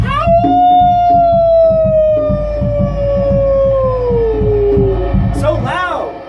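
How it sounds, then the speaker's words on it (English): A man lets out one long, loud wolf-like howl from deep in his chest, a sustained falling tone lasting several seconds over a low rumbling backdrop, ending in a brief higher cry. "it erupts through my throat and out my now open mouth as I howl!"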